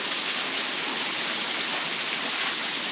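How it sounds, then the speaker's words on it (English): Heavy rain pouring off a house roof and overflowing full gutters, a steady dense roar of falling water filling the whole stretch, close and constant with no breaks. "it's totally raining"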